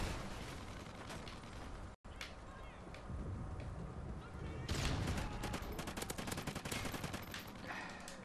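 Rapid bursts of video-game gunfire from Call of Duty: Ghosts on PS4, dense volleys and sharp reports filling the scene, with a brief dropout early on and heavier firing in the second half, a voice speaking faintly underneath.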